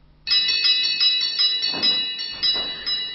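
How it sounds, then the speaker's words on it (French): Bright, ringing bell tones with sustained high harmonics, struck repeatedly in an irregular pattern, fairly close and clear with no voices. "On peut encore faire sonner les cloches, celles d'un carillon"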